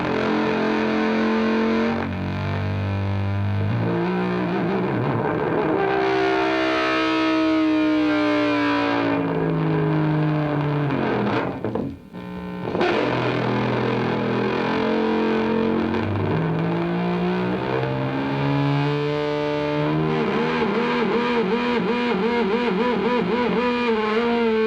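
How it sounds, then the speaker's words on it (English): Electric guitar with slackened strings bent by a whammy bar, howling with feedback and drenched in effects, producing long warped, swooping distorted tones that rise and dive continuously, with a brief dropout midway and no talking. "The guitar strings are being slacked and whammy barred with feedback."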